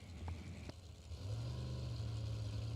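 A Power Class chassis dragster engine at a drag race, a low rumbling idle that steps up into a steady, louder droning hum at moderate distance.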